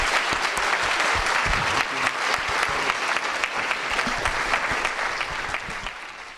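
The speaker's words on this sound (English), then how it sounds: "I want you guys to give a really big round of applause to all of our presenters." An audience at a forum on truth and science gives a loud, sustained round of clapping for the presenters, dense and even, then gradually thinning toward the end.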